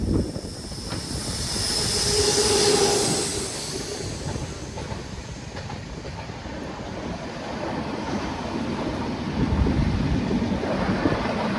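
The Kannur Jan Shatabdi, train 12082, rumbles past on the line below in a loud, steady rush of wheels and carriages, with faint squeals and no voices.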